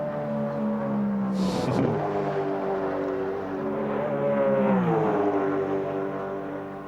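Race car engine at the 1993 Bathurst 1000 top-ten shootout, loud and sustained, rising and falling in pitch as it revs through gear changes while passing near, with no talk over it.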